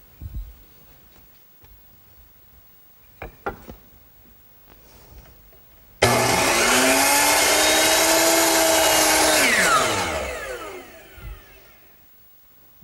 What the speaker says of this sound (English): And I'll make it at the miter box.